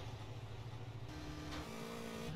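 A motorcycle engine in GTA San Andreas hums at a steady low idle, then shifts pitch upward as it revs slightly, faint and alone without voices.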